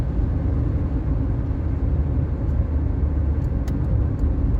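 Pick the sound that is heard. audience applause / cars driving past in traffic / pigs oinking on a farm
cars driving past in traffic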